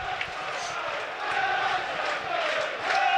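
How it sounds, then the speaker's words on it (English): A football crowd at a Burnley v Tottenham Premier League match makes a steady roar of chanting and singing that swells and stays loud throughout. "Crowd been excellent again. Plenty of noise."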